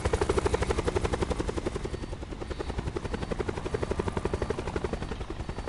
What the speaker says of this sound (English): Oh, is the helicopter failing now?